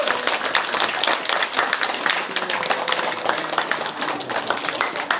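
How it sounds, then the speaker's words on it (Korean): A crowd applauding at a campaign office opening ceremony, a loud, sustained patter of many hands clapping, fairly close and continuous, with faint scattered voices underneath. "우리 박수 한번 크게 쳐주십시오."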